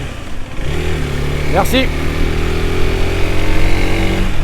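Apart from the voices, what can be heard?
FB Mondial HPS 125 motorcycle accelerating to overtake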